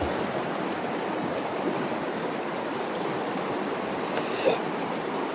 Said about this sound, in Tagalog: Topeto Waterfall,